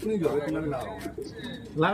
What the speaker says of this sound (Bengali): এখন পায়রা দেখছে উস্তাদ আমাদের হযরতদা